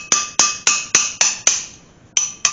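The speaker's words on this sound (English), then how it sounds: "I'm probably going to have to use a hammer to beat on it" Hammer blows on a chisel driving at a stuck clutch in an AMC Gremlin during a 4-speed swap: six sharp, loud metallic strikes in steady rhythm, a brief pause, then two more, close and ringing, with no talk.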